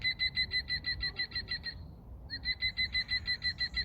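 An RSPB squeaky toy bird imitating a green woodpecker's call: a rapid series of shrill, even squeaks, a short pause, then another burst of the same repeated notes, loud and close.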